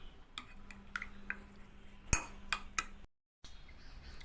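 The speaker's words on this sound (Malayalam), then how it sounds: "നമുക്കിതൊന്ന് നന്നായിട്ട് മിക്സ് ചെയ്തിട്ട് നമുക്കിതൊരു തോരൻ പോലെ റെഡിയാക്കിയെടുക്കാം." Metal utensil scraping and tapping against a pan while mixing scrambled egg thoran, a series of sharp clinks and knocks at irregular intervals, close and fairly quiet, then a brief silence.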